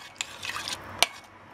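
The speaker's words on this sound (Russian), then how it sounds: "Размешиваем." A spoon stirs Haitian Ti Malice hot sauce with tomato paste in a cooking pot, giving a few short scraping and clinking strokes, one sharp knock against the pot standing out near the end, close and alone.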